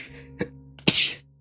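A single sharp, loud sneeze bursts out after a short intake of breath, close by in a quiet room during a tabletop Dungeons and Dragons session.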